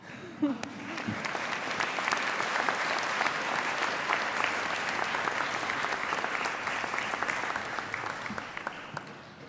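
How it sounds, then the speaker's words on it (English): Sustained audience applause at a Loyalist College convocation ceremony, a dense, even roar of many hands clapping that holds steady throughout. "We can clap for them."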